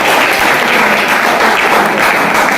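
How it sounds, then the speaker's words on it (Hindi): A crowd of students in a classroom in Pratapgarh, India applauds loudly and continuously, a dense wash of clapping with no pauses. "जबरदस्त ताली होनी चाहिए।"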